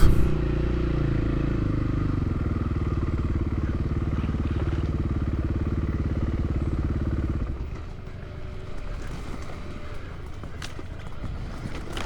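Husqvarna FE501 dirt bike riding a hard enduro trail: a loud, steady engine drone with rattling clatter, easing off after about seven seconds to a lower rumble with knocks, faint voices underneath.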